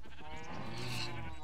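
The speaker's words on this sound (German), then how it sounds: "Jetzt werden die Tiere hier nacheinander getötet." Minecraft sheep and other farm animals bleat as they are slaughtered one after another in a game, a dense, overlapping run of wavering cries filling the short moment.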